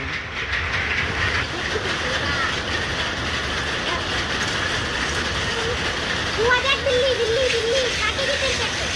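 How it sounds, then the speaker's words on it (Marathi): Steady mechanical factory drone carries over an outdoor village cooking spot with a wood-fired clay stove, continuous and fairly loud throughout, with a brief faint voice-like sound near the end. "कारखान्याचा आवाज येतोय"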